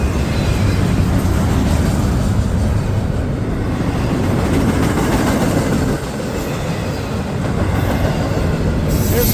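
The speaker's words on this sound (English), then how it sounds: "Pretty good train." A train rolls steadily past on the tracks, loud and close, a continuous rumble and clatter of wheels on rail that holds for several seconds without a break, with no one speaking.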